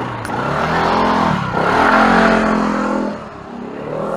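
A SYM Husky ADV 150 scooter engine revs up close as it pulls away, a rising then falling buzzing drone that fades slightly at the end.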